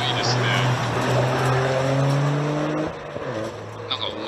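A rally car on the Ikaho special stage revs hard at full throttle, with rising and falling engine tones passing close, and voices talking over the roar.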